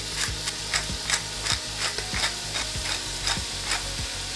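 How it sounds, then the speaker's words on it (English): Onion, garlic, potato and red pepper sauté in vegetable oil for a vegetable soup, a constant bright sizzle with rhythmic stirring strokes roughly every half second, close and steady, with no talking. "onion, garlic, potato, red pepper in, and we're gonna saute everything"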